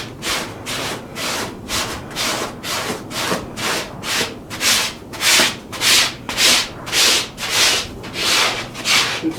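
Pumice stone rubbed in steady back-and-forth strokes across a brain-tanned buckskin hide, a rhythmic scratchy rasping of about twenty close strokes that grows slightly louder over time, with no talking.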